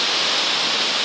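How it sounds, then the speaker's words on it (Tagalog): Flood water after the first heavy rain of an approaching storm rushes in a dense, steady roar of broadband hiss, close and unbroken, with no voices. "Ay, baha."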